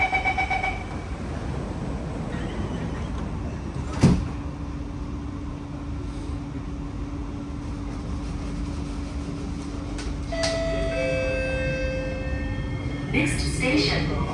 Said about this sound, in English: Doors are closing.